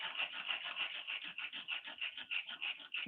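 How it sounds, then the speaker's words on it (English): A triangular file rasps steadily back and forth across wood, cutting a groove with quick, even strokes close by and no talk. "So I'm going to use a triangular file, but you could just as easily use a hacksaw."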